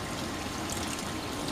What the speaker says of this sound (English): I'll rinse it out with really, really cold water